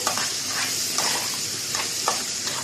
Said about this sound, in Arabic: ودلوقتي يتحمر معانا الشعريه كده، وهنضيف مع بعض الرز وهنقلب كده